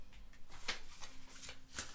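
Tarot cards being shuffled by hand for a reading, close and soft, with quick riffling bursts and light slaps of cardstock in an otherwise quiet room.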